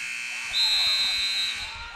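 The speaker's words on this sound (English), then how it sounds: "And now Roberts at the buzzer." At the end of the third quarter of a high school basketball game, a steady electronic buzzer sounds for about a second over crowd noise in the gym.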